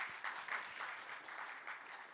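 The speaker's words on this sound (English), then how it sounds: "It's my first time in 5 years anyone's applauded after that line" An audience claps at a university racetrack industry program keynote address, a faint, steady patter of applause with no one talking.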